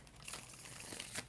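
A deck of tarot cards being shuffled: faint, papery riffling and crinkling rustles with a couple of sharper bursts, heard alone at low level.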